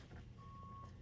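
A steady, faint single reversing beep tone from a construction vehicle at a building site where houses are going up, heard against a constant low rumble of nearby engine and site noise.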